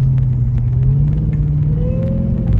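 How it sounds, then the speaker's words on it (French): A car engine rumbles steadily up close while a thin mechanical supercharger whine rises gradually in pitch above it. "on entend vachement bien le compresseur"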